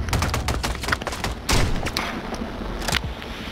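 Kar98k bolt-action sniper rifle fire in a multiplayer shooter game, a rapid run of sharp gunshots and booming reports with one especially loud blast midway, set amid dense in-game gunfire.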